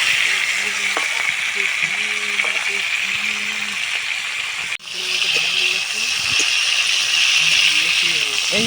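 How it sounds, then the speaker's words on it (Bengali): Prawns fry in a wok with a steady, close hiss and crackle, punctuated by scraping as they are turned; someone talks over the frying, and a brief dip in the middle interrupts the sizzle. "চিংড়ি কড়াই পড়লে যেন বড় বড় লাগে, ফুলে ওঠে কত সুন্দর।"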